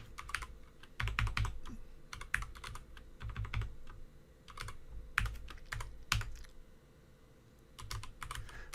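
Fingers typing on a computer keyboard in bursts of quick, close clicking keystrokes, with short pauses between runs and no talking.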